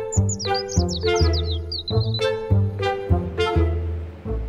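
Songbirds near an airport sing in a rapid series of high chirps and trills over a steady, rhythmic low-pitched background that swells and fades repeatedly.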